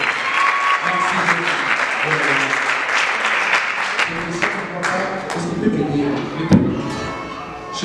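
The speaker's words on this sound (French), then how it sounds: "Est-ce qu'on peut acclamer très fort le Seigneur?" A church congregation applauds loudly, a steady, dense wash of clapping that continues throughout, with voices calling out over it.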